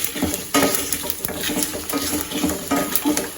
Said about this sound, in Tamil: பாருங்க, நல்லா வறுபடுது, எள்ளும் பொரியுது